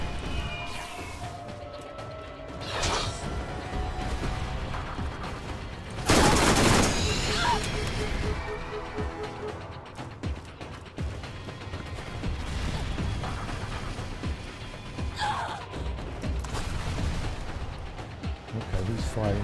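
Eridian bolt weapons firing in the Borderlands video game, a burst of loud crackling energy blasts with one heavy crash near the middle and scattered sharp shots around it, mixed with game effects and a voice talking.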